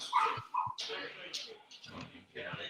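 A dog yelps or yips twice in quick succession near the start, then goes quiet while people talk in the foreground for the rest of the moment.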